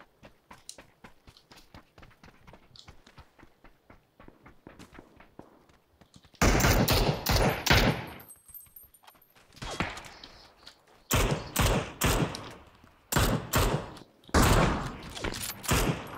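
Rapid gunfire bursts from PUBG on PC, sparse light shots early, then loud clustered volleys of automatic fire in repeated rounds, close and dominant with no talk.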